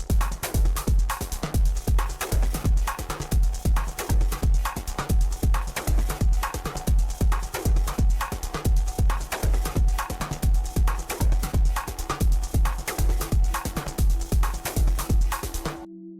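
A tight percussive loop in an electronic track doubling up the beat, loud regular hits repeating steadily for about sixteen seconds and then cutting off, with no voices.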